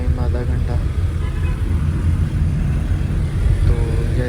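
Steady low road rumble from a car carrying passengers home from Murree, a continuous engine and tyre drone filling the interior with faint voices murmuring underneath.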